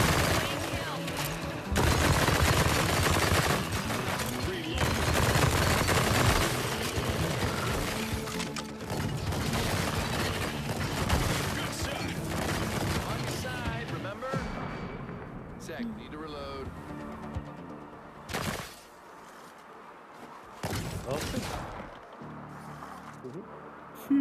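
Heavy gunfire in the VR shooter After the Fall, with dense, loud bursts of shots and crashing impacts running almost continuously before thinning into scattered blasts, while players talk over it.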